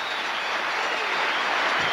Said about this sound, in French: Applaudi par Monica Bergamelli et par tout le public présent ici à la Sports Halle